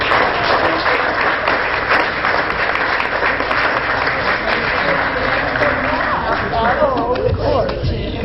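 Audience applause at a city council meeting: steady, fairly loud clapping from a roomful of people lasting several seconds, with some crowd murmur and voices mixed in toward the end.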